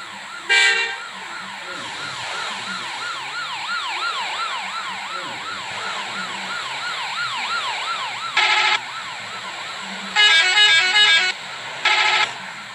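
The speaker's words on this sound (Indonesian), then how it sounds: "Ambulan tuh kasih jalan, ambulan tuh" An ambulance siren wails in repeated rising and falling sweeps on an Indonesian road, joined by short bursts of bus horn honking, with road traffic underneath.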